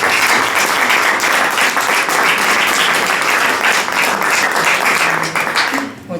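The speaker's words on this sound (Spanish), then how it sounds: "Un fuerte aplauso para recibir a Adelaida Porras" A full room at a Spanish book launch for a poetry collection applauds to welcome a speaker. Dense, steady clapping fills the space and tapers slightly near the end.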